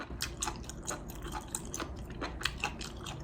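Rapid crisp crunching from close chewing of a crunchy Taiwanese bar snack, irregular bites repeating throughout with no talking.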